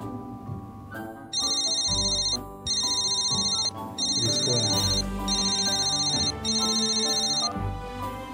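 A mobile phone rings in a cinema with a steady electronic ringtone, sounding in repeated bursts over a music soundtrack, loud and close.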